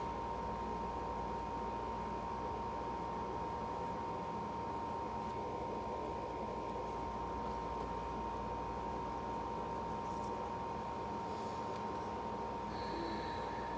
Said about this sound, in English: I know you probably hear that humming in the background. That's my air conditioner.